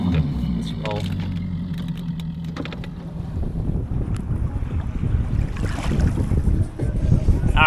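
Strong wind roaring across Lake St Clair around a fishing boat, a loud, continuous gusty rush with deep low-end buffeting that builds and stays heavy throughout.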